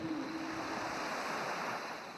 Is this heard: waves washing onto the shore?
yes